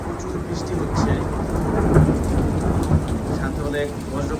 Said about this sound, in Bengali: আপনারা দেখতে পাচ্ছেন যে অনেক বৃষ্টি হচ্ছে এবং বজ্রপাতের আওয়াজ শোনা যাচ্ছে।